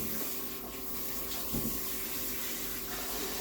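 Running tap water pours steadily into a sink as hands are washed underneath, a continuous close splashing hiss with no talk.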